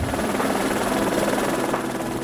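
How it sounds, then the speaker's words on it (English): A Eurocopter EC-135 multipurpose helicopter takes off, its rotor and turbine making a loud, continuous whirring thrum that stays steady and close throughout. "An EC-135 at takeoff. The multipurpose helicopter rises weightlessly into the air."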